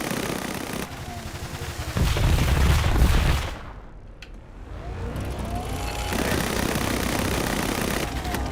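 A barrage of rapid gunfire in the desert survival game Silica, loud sustained bursts with a heavy low-end thump, dropping away briefly midway before a vehicle-like engine rumble and further firing resume.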